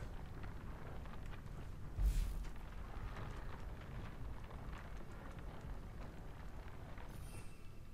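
An explosion spell cast in the Hogwarts Legacy video game gives a single sudden blast about a quarter of the way in. It rises over a steady layer of game ambience and fades quickly.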